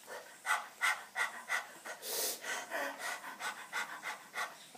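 A human voice imitates a panting little dog with about a dozen quick, breathy rhythmic pants, close and fairly loud with no other sound.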